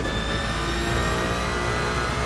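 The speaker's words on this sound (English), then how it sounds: "and also the Cadillac sounds really nice." Engine of a Cadillac hypercar in the Gran Turismo 7 racing game, a steady, dense, loud mechanical roar held throughout with no pauses or talk.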